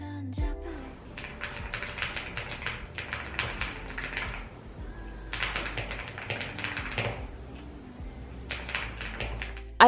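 Rapid, clicky keystrokes on a mechanical keyboard come in bursts with short pauses between, close and fairly crisp, with no voices over them.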